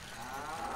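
A cartoon cow in South Park: The Stick of Truth lets out a short, faint, low moo lasting under a second.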